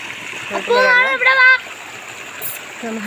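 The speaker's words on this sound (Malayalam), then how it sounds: "ഇവിടെ തോട് നമ്മുടെ വീടിനോട് ചേർന്നുള്ള തോടാണ്" A stream beside a house flows with a steady rushing babble close by, while a young voice speaks briefly over it.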